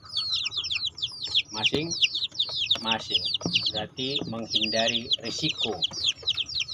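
Chickens cluck and peep continuously inside a coop kept warm against cold wind, with a busy, close flock chorus running under a man's speech throughout.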